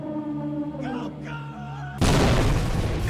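A cannon weapon fires in the Roblox game Item Asylum, one loud, sudden boom at the end, cutting in over game music and sound effects.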